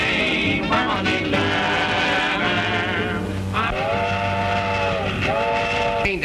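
A train passes in a 1929 short film, its steady rumble and clatter overlaid with long, loud whistle blasts that sound twice in succession near the end.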